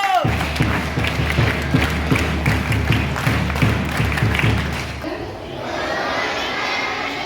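School audience at a retirement ceremony doing a rhythmic group clap with regular thudding beats and crowd voices, then breaking off into quieter room murmur.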